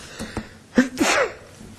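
A single sharp sneeze from someone at a city council meeting, short and close, preceded by a brief intake of breath in an otherwise quiet room.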